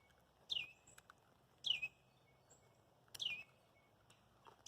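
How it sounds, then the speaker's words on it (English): Small birds in trees give faint, sharp chirps, three or four spaced calls over a quiet outdoor background. "Having the birds sing for you."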